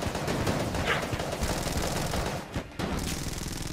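Continuous rapid gunfire from a full magazine being emptied in the video game Enter the Gungeon, loud and dense with a brief break near the end before it resumes.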